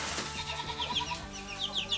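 Pet chickens clucking steadily and close, a continuous run of overlapping clucks and low throaty calls with no talk over them.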